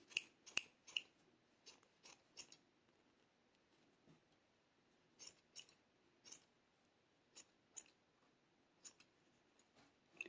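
Scissors snip through wrapped crochet yarn for a mini beanie in short clusters of sharp, close cuts separated by quiet pauses.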